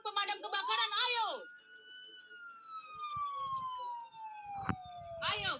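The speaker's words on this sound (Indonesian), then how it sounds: "Cepat, truk pemadam kebakaran." A cartoon fire truck siren wails in a long falling tone beneath animated characters' voices, with speech before and after it.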